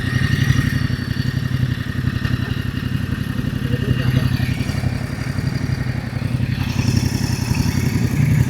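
Several combustion-engine motorcycles rumble past at close range in Fontainebleau, a steady loud throbbing engine drone with rising revs, while a voice speaks faintly underneath.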